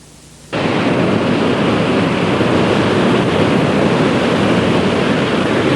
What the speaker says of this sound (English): This is the Pacific Ocean.